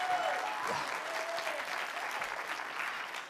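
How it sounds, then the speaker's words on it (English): Applause from a church congregation during a sermon, steady and dense clapping throughout, with a faint voice briefly over it at the start. "Somebody give God a hand."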